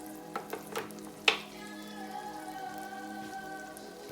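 A roux of olive oil cooking in a pot for gumbo gives a faint, soft sizzle, with a few sharp clicks and taps near the start, then a quiet, steady frying hiss.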